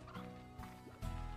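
Chickens clucking in the Slime Rancher video game, a few short quiet clucks and gobble-like calls spaced apart, faint and with no talk over them.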